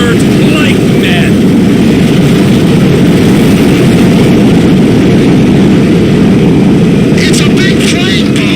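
A large airplane in GTA V drones with a steady, loud low engine roar throughout, with faint chirpy background sounds near the start and end.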